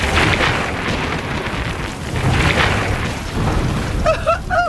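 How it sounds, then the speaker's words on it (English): A cartoon deep rolling rumble of thunder over steady falling rain, with a short high-pitched cry breaking in near the end. "you're not scared of a little thunder now"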